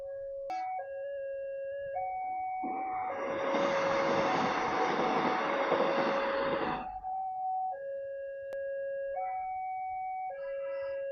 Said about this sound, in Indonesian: Ini ada kereta api guys, kita sedikit abadikan